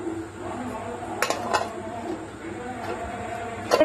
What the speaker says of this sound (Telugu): ముందుగా మనం కలిపి పెట్టుకున్న పాలని ఇందులోనే పెట్టాలి